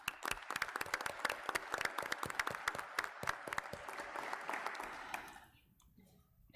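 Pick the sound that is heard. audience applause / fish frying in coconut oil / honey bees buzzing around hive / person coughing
audience applause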